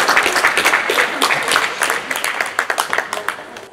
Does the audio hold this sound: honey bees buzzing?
no